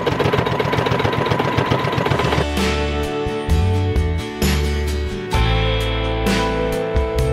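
A sewing machine stitches upcycled fabric for a laptop sleeve, running in a fast steady mechanical rattle, then breaking into shorter bursts with brief pauses, loud and close with no talking.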